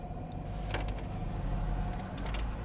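A quiet electric motor whirs steadily as the passenger power window of a 1986 Pontiac Fiero slides, with faint clicks and a soft thump near the end, inside the car.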